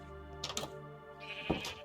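Sheep indoors in the Minecraft video game bleats twice, two short nasal bleats close together followed by a longer wavering bleat, loud and close with no talking.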